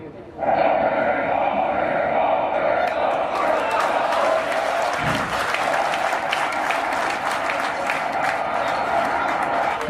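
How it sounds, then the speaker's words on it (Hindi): A large crowd at an Indian political rally with Modi and farmers roars and cheers in a continuous loud wash of voices and clapping. A louder surge comes midway, with rhythmic chanting mixed into the din. "और भीड़ देखिए कैसे मोदी मोदी।"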